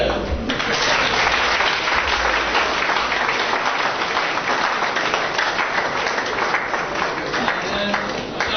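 A standing audience of farmers claps for themselves in loud, sustained applause, a thick continuous roar of hand claps with crowd noise mixed in, steady from start to finish.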